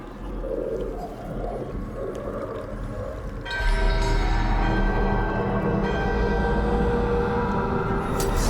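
A large bell rings during a ritual to awaken it in a Dragon Age game necropolis; a low ambient drone gives way to a loud, sustained, shimmering bell tone that hangs on steadily.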